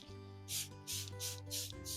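Four quick bursts of a spray bottle misting diluted unscented soap onto tomato plant leaves, short hissy pumps in a steady rhythm over a low background hum.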